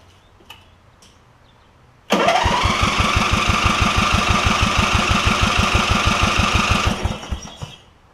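After a quiet moment with a faint click, a Briggs engine on a Craftsman lawn tractor cranks and catches with a sudden loud start, then runs at a steady, pulsing idle for several seconds before cutting off abruptly.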